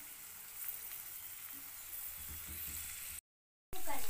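Mixed vegetables sauté in vegetable oil for an Indian-style broccoli salad, a soft steady sizzle close by with faint stirring, broken by a short silent gap before the sizzle returns louder.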